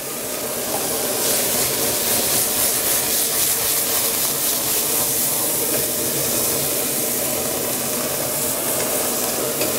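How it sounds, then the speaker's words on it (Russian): Beef tenderloin for roast beef sears in a hot pan with a loud, constant sizzle and hiss that holds steady throughout, close and dense. "готовится ростбиф довольно быстро. Я имею в виду, обжаривается довольно быстро"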